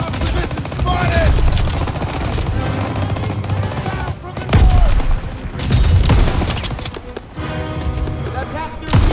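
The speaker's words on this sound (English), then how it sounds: "Everyone, open fire!" Dense, sustained gunfire from a Call of Duty WWII battle, loud and continuous with repeated bursts and heavy booms, mixed with shouted voices and game sound throughout.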